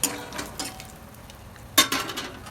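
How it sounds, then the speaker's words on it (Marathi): Peanuts frying in oil in a pan for batata pohe, a soft background sizzle with a few clinking stirs, one sharper clatter partway through; no talking. "तेलामध्ये शेंगदाणे चांगले असे कडक कडक होऊ द्यायचे"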